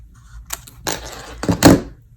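Card paper being cut at an angle for a handmade greeting card, giving a few short, close crisp snips and rustles, with a couple of louder strokes near the end.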